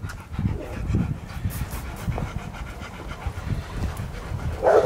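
Big dogs panting heavily and continuously close to the microphone, rhythmic breathy huffs running throughout with a brief whimper near the end.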